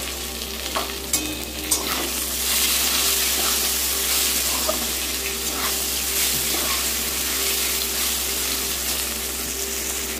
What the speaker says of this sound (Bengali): আমার নিম পাতাগুলো ভাজা হয়ে গেছে। আমি এবার বেগুনগুলো মিশিয়ে দিলাম।